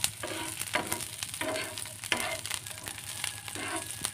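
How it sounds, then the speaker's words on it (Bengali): Garlic cloves stirred and fried in a pan over low heat until browned, with a continuous sizzle and repeated clattering strokes of a spatula against the pan. "এগুলো ভালো করে নেড়েচেড়ে ব্রাউন কালার করে নিতে হবে।"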